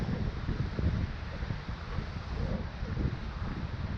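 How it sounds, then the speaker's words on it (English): Wind blowing at a river by rapids and a small waterfall in the Boundary Waters wilderness, a steady broadband rush buffeting the microphone in gusts throughout, with no voices. "But we got some wind to deal with."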